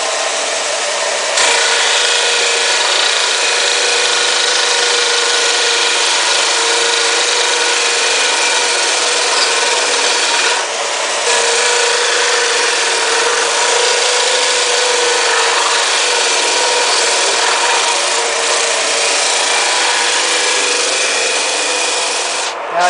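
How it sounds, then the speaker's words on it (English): Wooden end pieces for a doll-sized bunk bed are sanded square down to a marked line. A loud, steady, continuous abrasive rasp runs throughout, with brief dips near the start and middle. "I'm just going to use that to sand these ends down to that line that I had made"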